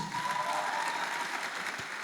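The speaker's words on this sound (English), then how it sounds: "If you are enjoying the class, clap for Jesus" Audience at a church teaching class clapping in a steady, moderately quiet wash of applause, with a faint sustained tone running through and a brief low thump near the end.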